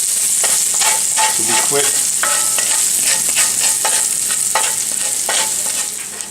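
Seasoned ground beef browns in a frying pan for enchiladas, a loud, busy sizzle broken by quick spatula stirring strokes, while a person briefly speaks.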